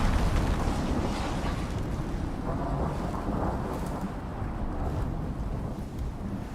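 In the survival video game Icarus, a lightning storm rumbles with loud, continuous thunder and heavy wind roaring over the microphone, a dense, unbroken wall of noise with no talking.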